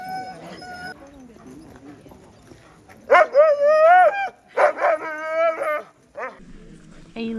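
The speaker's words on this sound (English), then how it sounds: "It's a pile of puppies inside the house." Sled dog puppies piled together indoors at a Denali National Park kennel in Alaska yip and bark in sharp, high, close bursts, with quieter whimpers and soft background noise between them.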